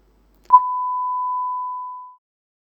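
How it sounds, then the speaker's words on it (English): A synthesized sine tone, built as a sound envelope in HappyBrackets, sounds once with a sharp attack, holds steady for about a second and a half, then fades out smoothly to silence. "You'll hear the sound envelope played every 3 seconds."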